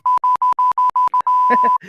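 An electronic sensor gives a rapid series of seven short identical beeps, then one long sustained tone, loud and close; a voice cuts in briefly near the end.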